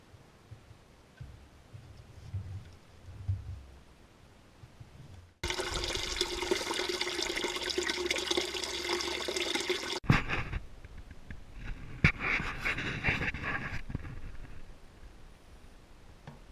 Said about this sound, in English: that's the radiator drained. Looks to be about 10 litres in there.